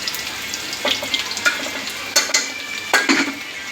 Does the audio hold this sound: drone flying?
no